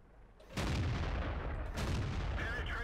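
A tank cannon firing in World of Tanks, two heavy booming blasts with a rumbling tail, loud and close, separated by about a second.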